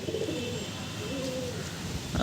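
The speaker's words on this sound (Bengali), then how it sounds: "এবার দেখুন এটা লালশিরা পায়রা" A male Lalshira pigeon, a Bengali high-flyer kept for sale, gives a low, soft coo that rolls close by, with a slight rustle at the end.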